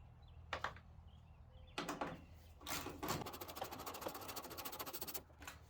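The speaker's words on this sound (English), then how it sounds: "Go ahead and remove both bolts and then we can move on." A ratchet or driver loosens an 8mm bolt on a Ford F-150 taillight assembly, giving a few separate clicks and then a steady run of fast ratcheting clicks lasting several seconds, close and fairly quiet.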